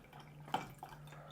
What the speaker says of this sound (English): I'll just fill it up with most of the water